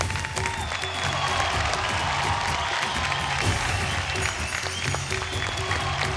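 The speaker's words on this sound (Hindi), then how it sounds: "तालियां रुकनी नहीं चाहिए एक्चुअली" Sustained applause from a studio audience on a televised dance competition stage, a dense steady wash of clapping with some cheering that stays loud and continuous throughout.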